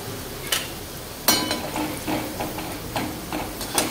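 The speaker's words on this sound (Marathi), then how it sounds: "छान लाल रंग येईपर्यंत ते आपल्याला फ्राय करून घ्यायचे" Medu vada fry in hot oil with a soft continuous sizzle, and a few sharp taps and clinks of a utensil against the pan are heard nearby, with no talking.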